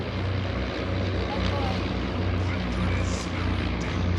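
A de Havilland Chipmunk vintage propeller plane at an airshow gives a steady, throaty low engine drone with a propeller buzz. It holds constant and fairly near against outdoor crowd ambience.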